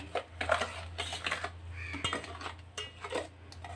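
Carrot cake batter with ghee being mixed in a bowl, giving repeated scraping and clinking strokes in an uneven rhythm, close and moderately loud over a low background hum.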